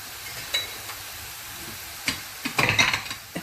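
Panch phoron spices frying in a pan, a close sizzle broken by scraping stirs and a few metallic clinks of a spoon against the pan, rising to a busier burst of crackle and stirring near the end.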